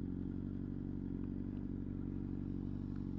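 A motorcycle rolls to a stop with the clutch pulled in during a beginner riding lesson, its engine idling as a steady, loud, low rumble throughout with faint clatter on top.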